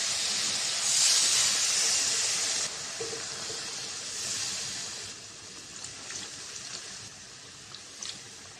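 Fish curry broth poured into a hot pan sends up a loud, steady steam hiss that lasts several seconds, then fades to a softer sizzle with small crackles.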